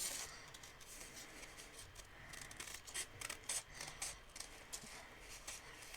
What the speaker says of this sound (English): I'm just going to use these scissors, even though they're not my fussy cutting scissors